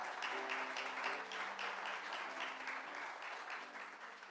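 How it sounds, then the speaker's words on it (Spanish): A church congregation applauds in steady, moderately quiet clapping that holds throughout, with faint sustained tones in the background. "dé un aplauso al Señor"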